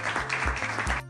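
A clapping sound effect in a kids' number-counting video, a quick run of rhythmic hand claps, close and bright, ending abruptly.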